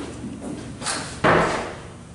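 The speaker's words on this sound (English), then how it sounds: "I'm going to close the door." A classroom door is pushed shut in one firm closing thud, preceded by a softer shuffle of handling, with no talk over it.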